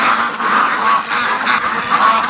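Ducks on a free-range flock's back deck give a dense, continuous chorus of honking quacks, several birds calling over one another at close range with no pause.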